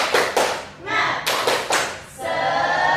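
A classroom of students doing a rhythmic spirit clap, several sharp group claps in a patterned beat alternating with short bursts of children's voices chanting, close and loud.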